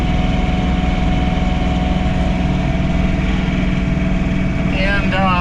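A John Deere 3046R tractor engine idles close by at an even pitch while snow blowing a driveway, with a faint higher whine near the end.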